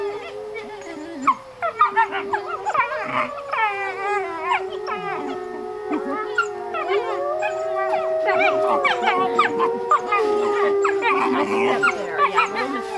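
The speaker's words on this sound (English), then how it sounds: "I'll let you listen to the howl there" Wolves from a 2004 litter howl together, long wavering overlapping howls mixed with yips and whimpers, close and fairly loud, continuing for several seconds in a layered chorus.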